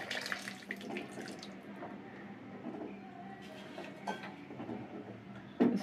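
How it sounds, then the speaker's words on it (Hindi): Heated water pours into a pot of khichda in a home kitchen, a steady running splash with faint clinks of cookware, continuous and fairly close. "इसमें थोड़ा सा पानी डालेंगे।"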